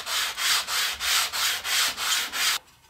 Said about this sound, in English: to do that is with a piece of sandpaper glued down to a 3/4 inch thick piece of MDF